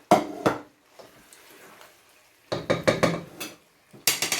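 Creamy rasta pasta with roast chicken being stirred in a pan, with bursts of utensil scraping and clinking against the pan separated by near-silent pauses.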